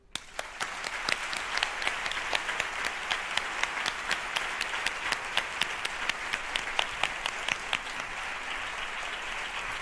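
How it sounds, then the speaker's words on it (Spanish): Audience at an inaugural gala applauding healthcare workers, a sustained, even round of clapping with sharp individual claps standing out above the crowd. "ahora pido un aplauso para todo el personal sanitario que nos ha cuidado y nos cuida alrededor del mundo"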